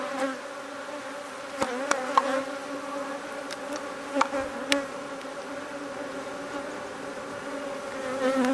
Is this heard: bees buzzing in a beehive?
yes